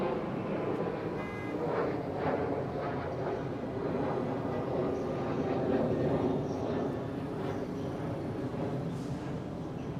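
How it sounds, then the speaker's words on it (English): An airplane passes over Miami at night as a steady, moderate rumbling roar that swells slightly midway, heard alone without talking. "Oh, there's an airplane now."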